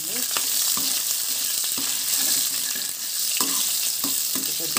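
Onion pieces for idli sambar fry in a pan with a loud, continuous close sizzle. Repeated spatula taps and scrapes break through it at irregular intervals, and no voice is heard.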